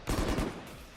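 A brief burst of gunfire in the shooter game Valorant during a competitive esports match, a dense rattling volley that swells quickly and then trails off within a second.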